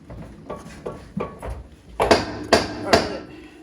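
Several dull strikes land about half a second apart, growing louder, with three sharp ringing hits near the end, a hammer striking metal while fitting K20 axles and drivetrain parts on a Honda Civic.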